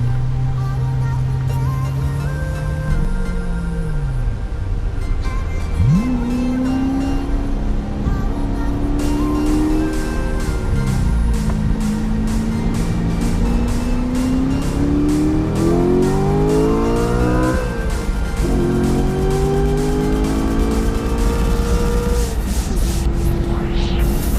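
Cars lapping a technical racetrack built in 1959 during a track day, engines rising and falling through repeated gear changes and revving, loud and close inside the car, with passing cars audible around it.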